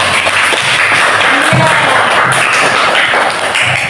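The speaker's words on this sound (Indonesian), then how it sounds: "tepuk tangan untuk kelompok 3" Classroom applause for a student group during a maths lesson: dense, steady clapping from many hands that fills the whole stretch at close range.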